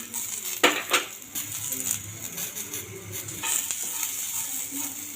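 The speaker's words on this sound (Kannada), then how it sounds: "ಸ್ವಲ್ಪ ಎಣ್ಣೆ ಹಾಕ್ಕೊಂಡು ಇವನ್ನ ಎಣ್ಣೆ ಒಳಗೆ ಫ್ರೈ ಆಗ್ಬೇಕೈತಿ" Beans frying in oil for masala beans fry, a continuous hiss and sizzle broken by spatula scrapes and a few sharp metallic knocks against the pan.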